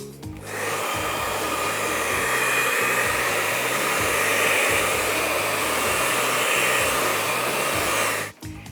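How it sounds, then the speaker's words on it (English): A hairdryer on its cold-shot setting blows steadily over a head of hot rollers, a loud continuous whooshing hum lasting several seconds before cutting off abruptly near the end. "get a hairdryer on the cold shot and just give it a little blast all the way around"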